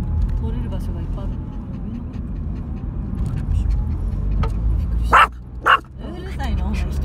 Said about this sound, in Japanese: 人に吠えるのはやめなさい。